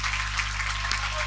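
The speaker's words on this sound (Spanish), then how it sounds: "el aplauso de la gente de Guaraní Antonio Franco" Guaraní supporters applaud at a local football final, a broad wash of distant clapping from the stands under a steady low electrical hum from the broadcast.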